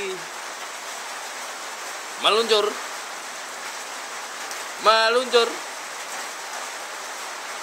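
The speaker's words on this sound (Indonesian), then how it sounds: "Hujan lagi, deras lagi." Heavy rain from a children's song hisses steadily throughout, with a singing voice briefly breaking in twice over the constant wash.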